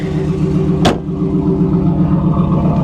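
A 1994 Pontiac Trans Am engine idles steadily with a low, even rumble, broken once by a brief sharp click or knock near the start.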